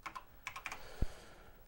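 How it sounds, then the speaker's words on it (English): Quick bursts of typing on a mechanical keyboard with Cherry MX switches, a few crisp clustered keystrokes and one heavier thock, close and clear in a quiet room. "If you're wondering why my keyboard sounds so exquisite, it's because I'm using the mech board."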